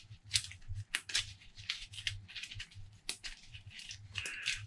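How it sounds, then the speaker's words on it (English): A deck of cards being shuffled close by during a tabletop card game, with a quiet run of crisp riffling flutters and snaps in uneven bursts, no talking. "And then we shuffle one more time."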